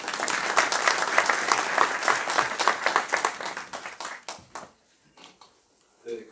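Audience applause in a hall after a professor is introduced at a lecture, a dense burst of many hands clapping that gradually thins out and fades to scattered claps before a voice returns.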